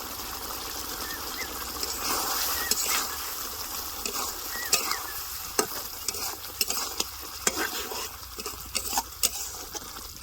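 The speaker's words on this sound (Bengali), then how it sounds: "এবার বাইটে রাখা মশলাটা দিয়ে দেবো" Ground raw spice paste is stirred into meat cooking without oil in a village-style pot, with a steady sizzle under scraping stirs and sharp ladle knocks against the vessel; no talking.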